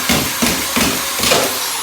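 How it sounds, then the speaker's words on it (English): Drill driving screws into sheetrock, with four quick, evenly spaced bursts of whirring and grinding, each one short and close, over a steady background hum. "you can see I just put in like 8 screws with like no problem"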